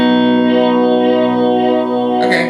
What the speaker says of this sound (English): Here's a pad echo, so I don't know if this is going to have like a pad sound